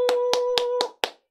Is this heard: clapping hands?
yes